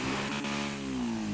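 Zentorno supercar engine in GTA 5 Online revving hard, a loud sustained mid-pitched roar that sags briefly then climbs again, heard alone.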